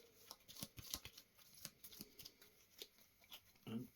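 Playing cards for the Colonial board game are shuffled by hand at a table: a soft, quiet run of quick riffling and slapping flicks over a few seconds, with no voices.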